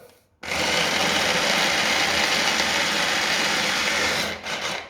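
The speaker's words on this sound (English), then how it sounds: "Lid on the food processor. Up. Got too many cashews in there, doesn't want to stand up. Food processor on, start them on slow." A food processor packed with cashews runs on its slow setting, giving a loud, steady whirring and chopping roar that starts abruptly, holds for about four seconds and then cuts off.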